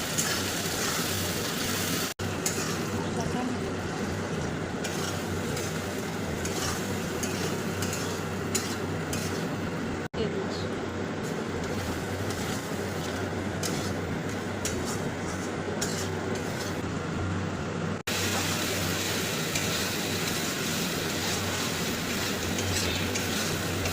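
Spices fry in hot oil with onion and a little salt for a jackfruit and shrimp curry, a steady close sizzle that continues without a break, with occasional stirring scrapes.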